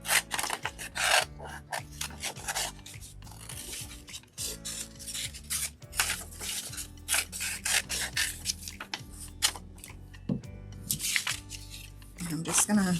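A Dollar Tree fall and Halloween sign stencil being cut down with scissors, close rasping snips and rubbing of material in irregular bursts, with soft crinkles throughout.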